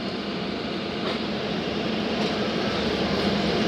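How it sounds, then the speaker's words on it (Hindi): The Thal Express pulls out of Jand Junction in a steady, broad rumble of rolling wagons, heard from inside at a constant moderate level. "जंड जंक्शन से ट्रेन रवाना हो रही है"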